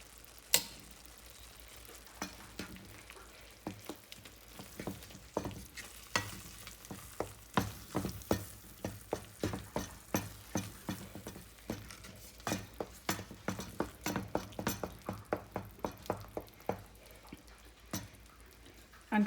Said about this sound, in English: I'm mixing it well.